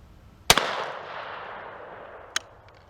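A Harrington and Richardson Model 088 single-shot shotgun fires outdoors: one sharp, loud blast followed by a long fading rumble and echo, then a second, fainter crack near the end.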